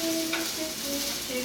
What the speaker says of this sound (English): You want to just stir your onions, garlic, let it welt.